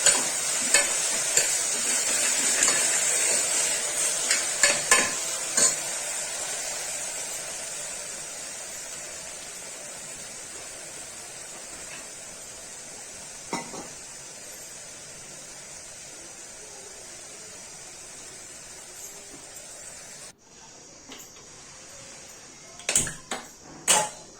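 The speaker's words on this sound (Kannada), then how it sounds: "ಚೆನ್ನಾಗಿ ಈ ಥರ ಕಾಳನ್ನು ಫ್ರೈ ಮಾಡ್ಕೋಬೇಕು." Sprouted legumes frying in oil in a home kitchen, a continuous bright crackling sizzle that stays steady and close, broken by occasional scraping stirs, then fades and thins near the end.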